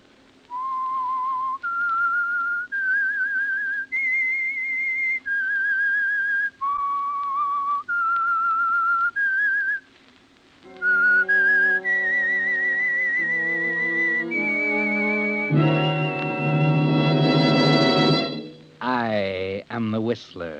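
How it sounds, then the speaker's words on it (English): A melodic whistled theme signals The Whistler radio mystery show, a clear solo tune of sustained notes stepping up and down, then joined by swelling orchestral music near the end. "That whistle is your signal for the Signal Oil Program,"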